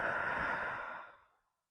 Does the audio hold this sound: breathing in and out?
yes